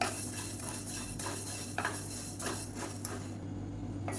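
Coriander seeds dry-roast in a pan, with a steady background hiss and repeated light rattling and spoon scrapes as the seeds are stirred, close and fairly even.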